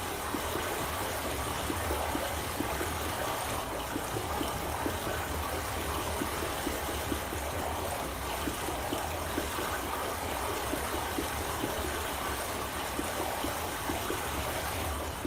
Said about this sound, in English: okay, well the water's definitely flowing.